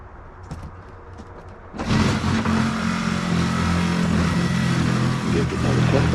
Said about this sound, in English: Back to the Sawzall.